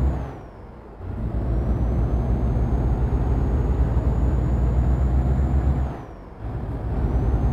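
A MAN TGX Euro 6 truck in Euro Truck Simulator 2 rumbles along with a steady engine drone, broken twice by brief air-brake pauses, with no talking.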